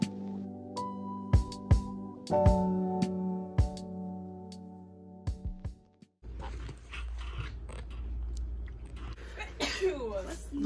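A sneeze rings out once in a quiet indoor room, short and close, with clinks and small household noises around it and people talking nearby.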